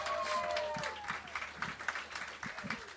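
An audience claps for a performer who has just finished a music set at a Black community gathering; the applause is steady and spread across the room, with a few voices calling out over it throughout.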